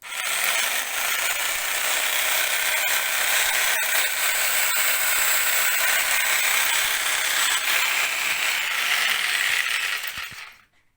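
A scroll saw runs steadily in continuous mode, a dense mechanical buzz with fine rattling that holds level for about ten seconds, close and alone, then cuts off sharply.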